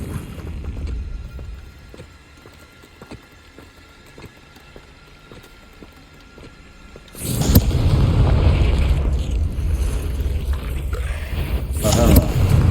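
Fiery Confringo spell blast in the Hogwarts Legacy video game, a loud booming burst that erupts midway and rumbles on, with a second sharp flare near the end over low game ambience and faint clicking footsteps.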